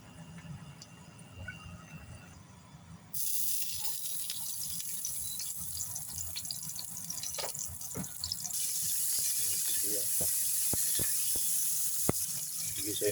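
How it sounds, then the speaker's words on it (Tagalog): Garlic and onion hit a hot pan as liver simmers nearby, bursting into a loud, steady sizzle that swells and holds, with occasional clicks and scrapes over the frying hiss. "magigisa tayo ng bawang sibuyas"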